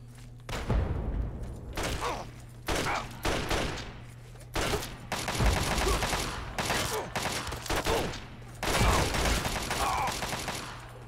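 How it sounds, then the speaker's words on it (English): Enemy Talon mercenaries open fire in Fallout 3, sending repeated bursts of rapid gunshots and booming volleys in uneven clusters with brief pauses between. "Man, they're really good at firing the the guns."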